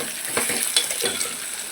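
Peanuts, green chillies, cumin, tamarind and tomatoes frying in a pan, a steady close sizzle with a few soft stirring scrapes, no voices.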